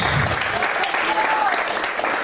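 A church congregation claps together in dense, loud, continuous applause that fills the whole moment, with a few voices faintly mixed in.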